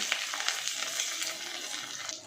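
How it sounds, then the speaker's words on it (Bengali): Pieces of pointed gourd (potol) that have just been flipped sizzle and fry in hot oil, a steady soft crackle with small pops and no talking. "এবার পটলটা এইভাবে উল্টে দিচ্ছি উল্টে দিয়ে ভালো করে ভেজে নেব"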